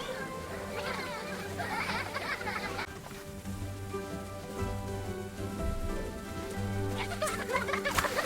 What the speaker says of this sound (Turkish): bak, yağmur yağıyor.